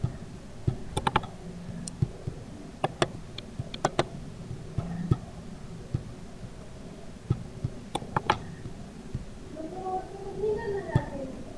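Sparse clicks and taps on a computer keyboard, scattered keystrokes in short clusters, fairly close and quiet, with a soft voice talking underneath.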